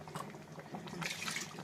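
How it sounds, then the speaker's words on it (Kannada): Water is poured into masala for chicken kurma, giving a faint, short splashing trickle that swells briefly toward the end. "ಸ್ವಲ್ಪ ಮಸಾಲೆ ಇತ್ತಲ್ಲ, ಇದು ಹಾಕ್ಕೊಂಡು ನೀರು ಹಾಕ್ಕೊತಾ ಇದ್ದೀನಿ."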